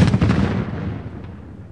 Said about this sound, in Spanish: llegan unos gritos y ruidos de disparos